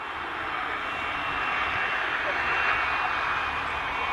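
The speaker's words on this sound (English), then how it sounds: "This Royal Air Force plane had its nose gear collapse while landing during an air show." A Royal Air Force plane touches down at an air show, its nose gear collapsing on landing, heard as a loud, steady broadband engine roar that holds without a break for the whole stretch.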